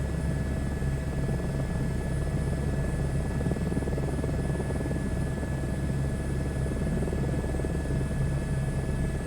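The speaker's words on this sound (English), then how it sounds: "Just trying to trim the helicopter out here a little bit." A helicopter flies over St. Augustine, Florida, with a steady, loud rotor and engine drone and a high whine, heard from inside the cabin, continuous and unbroken throughout.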